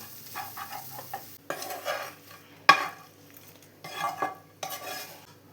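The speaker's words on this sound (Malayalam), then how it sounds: "ഇത് ചൂടോടുകൂടി തന്നെ തൈരിലോട്ട് ചേർത്ത് ഒന്ന് മിക്സ് ചെയ്തെടുത്താൽ മതിയാവും." A spoon stirs hot okra masala into yogurt for a coconut-free okra curry, with a few soft scraping and sloshing bursts, one sharp clink of utensil against the pot, and quiet pauses between the stirs.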